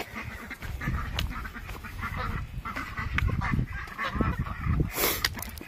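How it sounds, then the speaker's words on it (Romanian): Domestic geese out grazing honk repeatedly at close range, irregular overlapping calls from several birds, with other poultry around and a brief noisy burst near the end. "Gâștele s-au îmblânzit"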